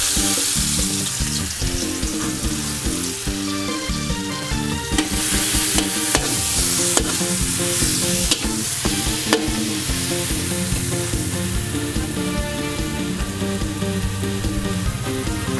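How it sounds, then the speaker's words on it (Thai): Pounded chili and garlic hit hot vegetable oil in a pan and are stir-fried, giving a loud, continuous sizzle with scraping stirring strokes throughout. "ต่อไปก็ใส่พริกกระเทียมตำลงไปค่ะ"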